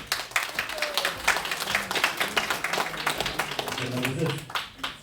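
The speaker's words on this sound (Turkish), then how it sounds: "Size alkışlar." An audience claps steadily in dense applause, with a voice speaking briefly over it.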